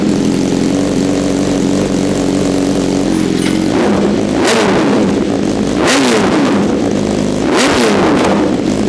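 A 2025 BMW S1000RR motorcycle with an SE Project exhaust on a cold start: the engine catches and settles into a loud idle, then three sharp throttle blips rise and fall, close and without talk.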